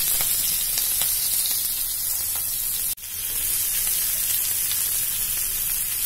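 Onion hitting hot oil for samosa filling, with cumin seeds and green chilli already in the pan, gives a steady loud sizzle throughout, broken once by a brief dip near the middle as the pan is stirred or shifted.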